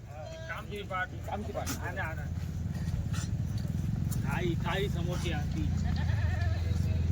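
A large mixed flock of Kathiawadi goats and sheep bleating in several wavering calls, some overlapping, over constant background rumble while someone speaks.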